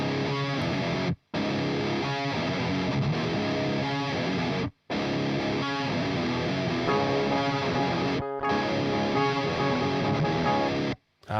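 Heavily distorted electric guitar chugging a tight riff with a raw, unfiltered buzz, with no gate or EQ applied, cutting to brief silent stops between phrases.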